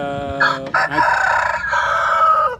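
A rooster crows close by in a Vietnamese fishing village, one long, loud cock-a-doodle-doo call with a brief break partway through.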